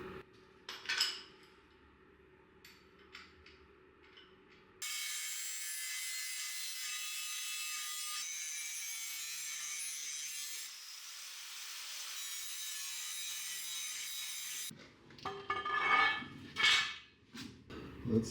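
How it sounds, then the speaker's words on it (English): An angle grinder grinds and chamfers metal edges before welding on a custom electric pickup's battery enclosure, a steady loud high whine lasting about ten seconds between quieter handling clatter. "Grind the edges here and chamfer them a little bit"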